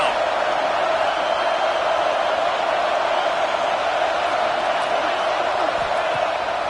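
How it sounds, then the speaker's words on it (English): A football stadium crowd roars steadily on a third down for the defense, a dense, sustained wash of cheering and noise that holds at an even level throughout. "Decibels rising as the crowd gets behind this defense on 3rd down"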